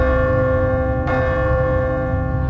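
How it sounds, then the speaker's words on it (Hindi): A large wall clock chimes the hour at three in the night, one bright bell strike ringing out over a sustained resonant hum, close and loud. "परितोष बाबू की बड़ी सी दीवार घड़ी में 3 का घंटा 1-1-3 बार बजा"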